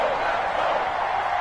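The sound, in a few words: stadium crowd cheering in the video game Madden 20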